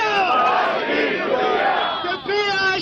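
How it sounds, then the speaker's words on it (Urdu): Party workers shout thank-you slogans together in a loud, continuous chant, the voices of the crowd merging into a single sustained roar at a political inauguration event in Lahore. "کارکنوں کے شہباز شریف شکریہ کے نعرے"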